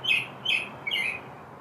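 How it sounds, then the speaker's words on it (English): Birds chirp three times in quick succession, clear and fairly close, each call a bright short trill, over a quiet outdoor background with no talking. "Tons of birds here, too. Yep, we got birds."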